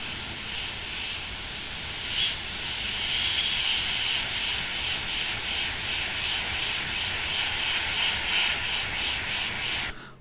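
An airbrush sprays a fine paint mist in a continuous close hiss, pulsing slightly in short bursts before cutting off abruptly near the end.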